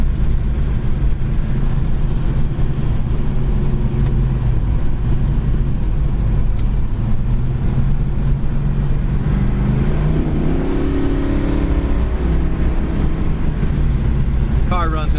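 A 1970 Plymouth Road Runner driving down the road, a loud steady engine drone with rising pitch as it accelerates and shifts, heavy wind rush over the microphone throughout.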